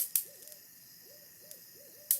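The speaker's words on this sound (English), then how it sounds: "It's an owl." An owl hoots softly in repeated short, wavering calls, fairly faint against a steady electrical buzz, with a few sharp snaps of a bug zapper cutting in.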